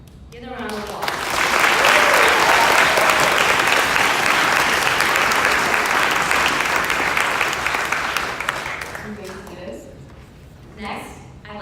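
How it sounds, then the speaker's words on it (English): Audience applause at a youth government State of the State event rises quickly and holds steady for several seconds before tapering off, with voices audible near the start and end. "Give them a round of applause"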